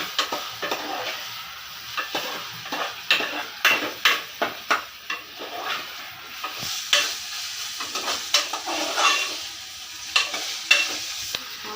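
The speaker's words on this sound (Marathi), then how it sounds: "मस्त कांदा वगैरे भाजला आहे" Onion and mutton fry with garlic paste in a pan, sizzling steadily while a utensil stirs and scrapes against the metal in repeated irregular strokes, close up.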